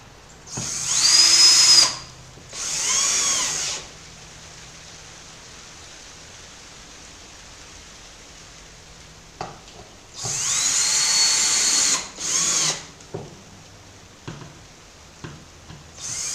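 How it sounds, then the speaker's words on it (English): A power drill drives screws into a pre-cut wooden back board on a mason bee nesting box, with two loud whirring bursts early on, a long quiet gap with faint handling, then two more bursts and small clicks near the end. "we're just going to go ahead now and screw it on."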